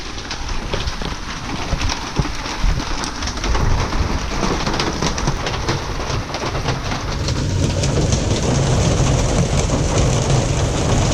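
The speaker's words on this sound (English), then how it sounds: "Still raining, never stops." Heavy rain pours steadily and close during major flooding, a dense hiss of drops on surfaces that grows a little louder toward the end.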